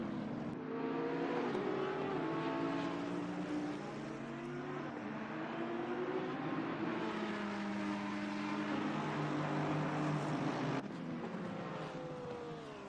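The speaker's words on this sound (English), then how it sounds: "Look at all the cars on the back." Several race cars in a Suzuka racing video game drive together with a continuous, loud engine drone whose revving pitches rise and fall, one brief cut near the end.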